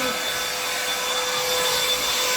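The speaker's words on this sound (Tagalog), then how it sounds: "Blower lang ng blower." An air blower runs indoors inside a house, a steady loud broadband roar with a faint whine that holds constant throughout, no speech over it.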